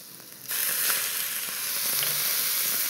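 Softened rice noodles for a spicy Korat prawn noodle stir-fry drop into a hot pan and burst into a loud, steady sizzle that holds without a break.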